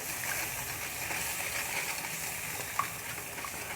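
Masala gravy for Maharashtrian shev bhaji being stirred in a pan after a glass of water goes in: a soft, constant bubbling sizzle with faint stirring, quiet and without speech.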